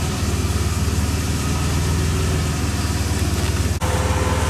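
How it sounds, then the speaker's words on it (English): Car engine running steadily with radiator cooling fans kicking on, a loud continuous low drone and whir with a brief dropout near the end, no voices. "So the fans just kicked on"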